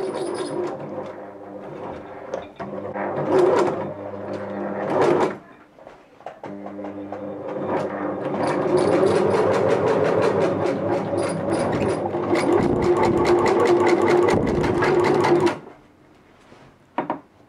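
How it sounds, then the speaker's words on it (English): A sewing machine stitches a single line through folded fabric for a desk build, running in bursts with short pauses, a loud rhythmic mechanical whir and patter close by. "folding this part over and sewing a single line stitch it back on itself"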